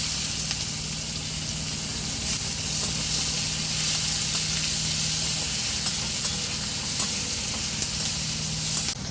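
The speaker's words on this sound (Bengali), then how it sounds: "পেঁয়াজটা আমি হালকা লাল করে ভেজে নেব।" Finely chopped onion fries in hot oil in a pan for patal chingri, a continuous close sizzle with steady hiss and occasional crackles and stirring scrapes, no voices.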